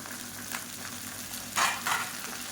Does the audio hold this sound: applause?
no